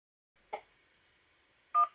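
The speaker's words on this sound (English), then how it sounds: "Oh, look, we get a phone call coming." Telephone call tones: two short electronic bursts about a second apart over a faint steady tone, with no talking.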